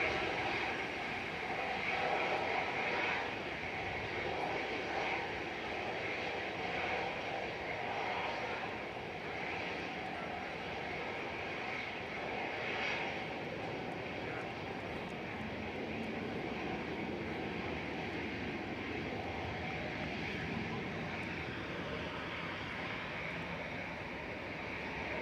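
Airbus A320neo jet departing Manchester Airport for Belfast, a steady broadband engine roar that holds loud and continuous throughout, with faint background voices.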